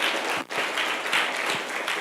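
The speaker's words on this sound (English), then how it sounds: "can we get a round of applause for our beautiful panelists?" An audience applauds panelists at a youth talk event, a steady wash of clapping from a crowd that dips briefly midway and then carries on evenly.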